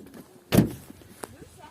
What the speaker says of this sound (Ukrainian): Ага, закрываю дверь.